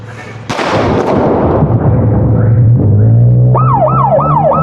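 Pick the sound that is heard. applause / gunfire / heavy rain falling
gunfire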